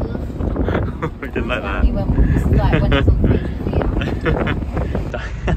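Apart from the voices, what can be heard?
strong wind on a cliff road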